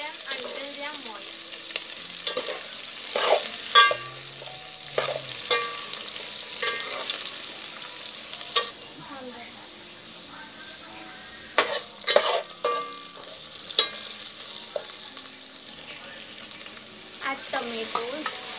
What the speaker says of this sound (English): Add onion. And fry them until they are moist.